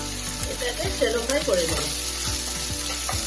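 Mustard seeds, fennel, cumin, chopped green chili, garlic and onion fry in hot oil with a loud, continuous close-up sizzle, punctuated by light stirring knocks and a brief voice in the middle.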